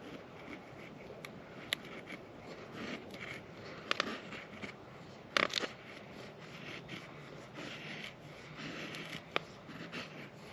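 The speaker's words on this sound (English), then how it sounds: "Let's try a little smaller piece for the feather sticking here." A knife shaves feather sticks from a small piece of wood, quiet intermittent scraping and shaving strokes with a few sharper clicks, close but faint.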